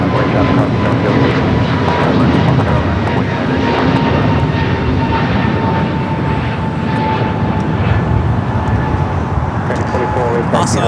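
A United heavy airliner roars down the runway on its takeoff roll at LAX, a loud, steady engine rumble with a faint whine that holds for the whole stretch, with talk over it.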